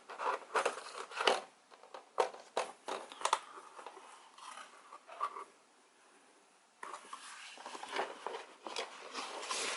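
A Razer BlackWidow keyboard comes out of its box with foam packing: close, irregular crinkles, rustles and soft handling knocks in bursts, a quieter pause midway, then more handling.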